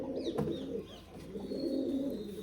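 Pigeons coo in low, soft repeated calls with a steady murmuring bed of cooing from several birds close by, and a few faint higher chirps above.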